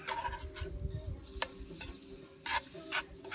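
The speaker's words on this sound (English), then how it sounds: "They're sizzling nice on there." Soft, steady sizzling of sweet potatoes frying in a Dutch oven outdoors, broken by the scrape of a utensil stirring a few times, close and quiet with no talking.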